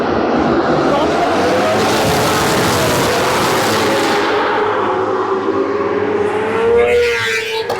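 Superbikes launch at the start of a race on a circuit, a dense, loud wall of screaming high-revving engines that thins after a few seconds as the field pulls away, leaving one rising whine.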